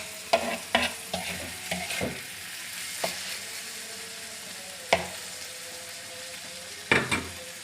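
Onion stalks fry softly in a pan while a spatula stirs them, with a quiet steady sizzle broken by sharp scraping strokes, several at first and then a few spaced ones, heard close and without speech.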